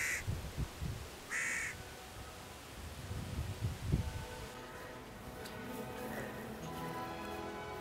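A young crow or jackdaw near a farm caws a few times, harsh calls ringing out in the first seconds over low rumbling outdoor background noise, then fading into a steady hiss.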